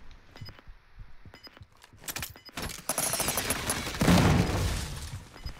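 Gunfire in the video game Call of Duty Modern Warfare II: scattered sharp shots early, then a dense burst of rapid firing and crashing impacts building louder toward the end, with no talk over it.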